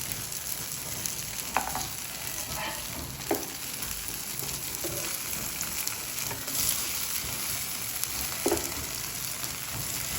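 Poha and wheat flour snack dry-roasting in a pan with little oil: a steady, close hiss with occasional scraping strokes as it is turned. No voices.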